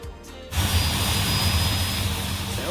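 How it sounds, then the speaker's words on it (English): An Embraer ERJ 175 jet engine spools up in a flight simulator game, shifting from quiet clicks into a steady, loud roaring whine that holds and slowly settles. "Sounds like the engine started."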